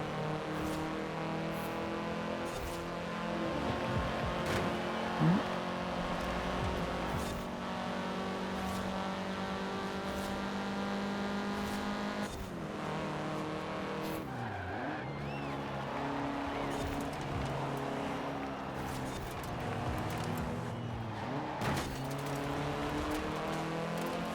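A hatchback driven in Forza Horizon 4 holds a steady engine drone for the whole run, rising and falling with revs and gear changes, with occasional tire squeal and skids as it races against other cars.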